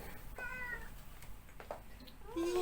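A pet cat meows a few times, short thin calls at moderate distance over steady room noise, with a louder meow at the end.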